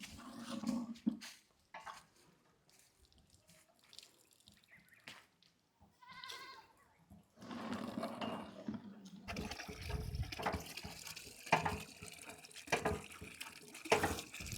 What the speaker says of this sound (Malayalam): ഇങ്ങനെയാണ് ഇവിടെ വെള്ളമൊക്കെ ആൾക്കാർ എടുക്കുന്നത് ബോർവെല്ലിൽ നിന്ന്